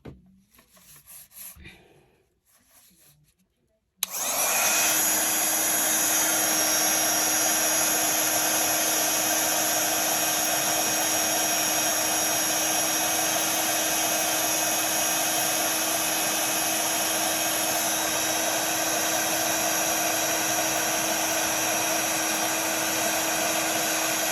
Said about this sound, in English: Heat emboss that.